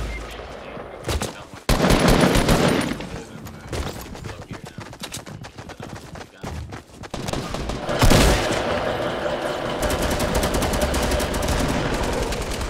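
Video game gunfire rattles in dense automatic bursts and single shots, loud and close, continuing almost throughout with brief lulls; a voice speaks faintly underneath.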